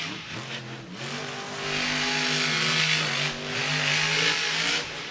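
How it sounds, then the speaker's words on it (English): Monster truck with a 540 engine at wide open throttle during a Monster Jam racing and freestyle event, a loud, sustained revving roar with rising and falling pitch and a brief dip midway before surging again. "you hear that wide open throttle?"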